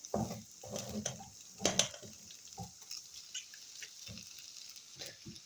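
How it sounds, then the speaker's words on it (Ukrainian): Soft scraping and clinking of a utensil stirring pasta with tomatoes in a frying pan, in short irregular strokes, fairly quiet with a faint background hiss. "Додаємо прямо сюди в сковорідку. Перемішуємо"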